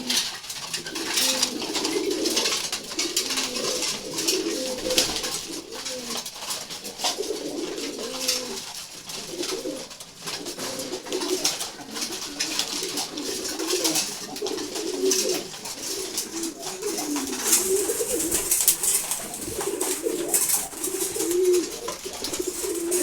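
Khaki and silver khaki pigeons coo continuously in a flock while feeding, soft overlapping low calls repeating throughout, with a busy rustling background.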